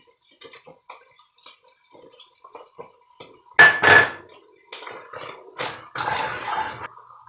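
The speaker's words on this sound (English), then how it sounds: "I'm going to go ahead and add 1/4 cup of all-purpose flour." Flour goes into a pan of melted butter on the stove, giving sharp metallic clatters and scrapes of utensil against pan in short bursts, with a couple of loud clanks midway and quieter clinks between.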